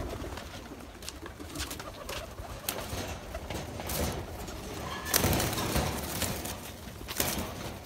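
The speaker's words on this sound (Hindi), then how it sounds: "ये देखो भाई खबूतर" Pigeons cooing in a cage, repeated soft throaty coos near the microphone, with faint rustles and wing flutters against low background noise.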